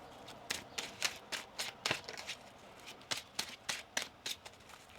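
Tarot cards shuffled by hand, a series of about a dozen quick riffling bursts in an uneven rhythm, close and fairly quiet with no talk over them.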